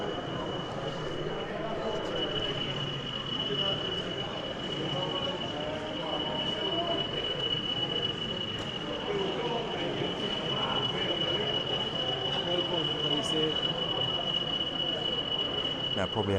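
A model railway locomotive runs along an exhibition layout, giving a continuous low rumble and a thin steady whine, with faint crowd murmur in the hall.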